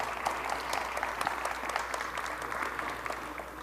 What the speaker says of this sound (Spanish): un aplauso y una felicitación para todos ustedes de nuestra parte como iglesia